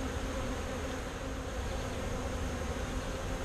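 Honeybees drone continuously around an open top bar hive during a summer inspection, a soft, even buzzing with no pauses and no voices.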